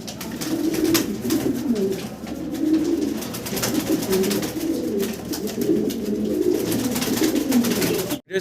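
Pigeons on a pigeon farm, many kept in cages, coo continuously in a dense, overlapping chorus of low rolling calls, with light rustling and a sharp thump at the very end.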